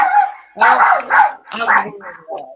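A dog gives several loud, close barks in quick bursts, with short pauses between them and voices mixed in nearby.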